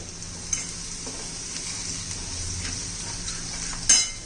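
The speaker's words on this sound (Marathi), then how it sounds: "आता एक तेजपत्ता घालायचा आहे, लवंग, मिरी आणि दालचिनी घालायची आहे." Whole bay leaf, cloves, black pepper and cinnamon sizzle steadily in hot oil for veg biryani, a soft continuous fry with a couple of brief utensil clinks, no voices.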